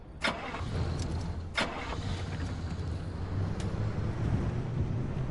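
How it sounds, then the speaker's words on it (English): A car in the Pacific Drive video game accelerates under nitrous boost, giving a steady, close engine rumble broken by a couple of sharp bursts near the start. No one talks. "Oh yeah, the car has a nitros boost now."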